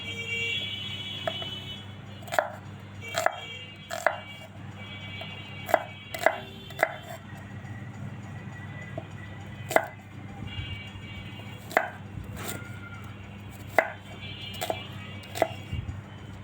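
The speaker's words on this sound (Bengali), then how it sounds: "আমি পেঁয়াজগুলো কেটে নিব।" Onions chopped with a knife for a Bangladeshi liver and potato dish, distinct knife taps on a board at irregular spacing over a steady background hum, close, no talking.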